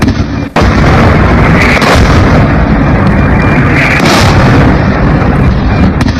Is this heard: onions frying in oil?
no